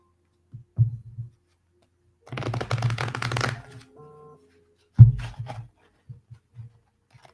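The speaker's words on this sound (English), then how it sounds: "So, I shall pull a card for you." Tarot-style cards being shuffled and one drawn for a psychic reading: a brisk riffle of about a second, then soft slaps and taps of cards laid down, close and quiet against silence.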